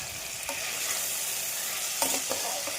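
Potatoes fry in oil in a pan after being covered for five minutes, giving a steady close sizzle throughout with a few spatula scrapes and stirring knocks breaking through.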